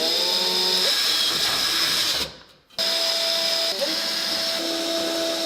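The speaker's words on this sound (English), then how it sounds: "Grab a vacuum." A vacuum cleaner runs with a steady high whine, cuts out briefly, then starts up again and keeps droning.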